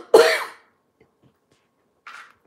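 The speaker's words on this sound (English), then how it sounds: "I got a cough." A single person coughs once, a sharp loud burst near the start, then quiet, followed by a shorter, fainter throat-clearing sound about two seconds later, with no talking.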